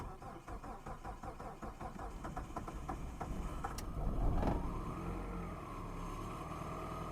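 A Chrysler PT Cruiser with 147,000 miles, sitting unused for two years, cranks with a quick rhythmic starter chatter, then catches and settles into a steady idle, fairly quiet and close.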